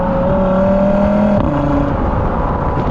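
Audi RS Q3 engine humming loudly and steadily up close, then dipping and rising in tone after a paddle shift, with no talk.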